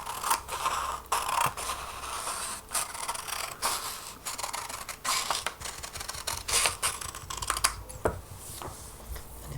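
Scissors cutting paper by hand at a steady pace, a run of close, crisp snips and rustling scrapes that continues through the whole stretch with no voice over it.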